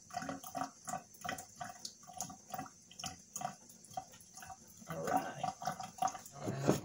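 Chicken gizzards being washed in water at a kitchen sink, with rhythmic splashing and dripping that grows busier and louder toward the end.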